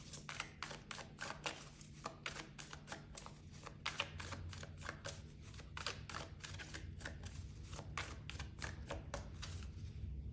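Oracle cards being shuffled in steady, rapid bursts of crisp riffling and slapping, close and fairly quiet, repeating throughout with no talking.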